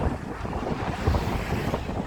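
Steady wind buffeting the microphone on a bus tour in West Kowloon, a constant low rumble with gusts swelling and easing throughout, no voices.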